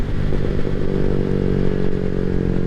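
A motorcycle fitted with a Leo Vince exhaust, an aftermarket intake and a tune runs at a steady, loud idle, its deep engine drone close and continuous throughout with no talking.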